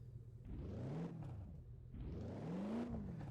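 A car engine in the racing video game Gear Club Unlimited 2 revs twice, each rise climbing and falling away in a smooth arc, loud and alone without talk.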